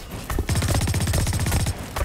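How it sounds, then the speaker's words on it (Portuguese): Rapid automatic gunfire in the video game Blacklight Retribution, a loud close burst of evenly spaced shots rattling for over a second, with a few single shots at the edges and no talking. "já tô escutando zoada de tiro"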